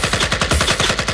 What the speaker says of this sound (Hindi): फिर गोलियां चलेंगी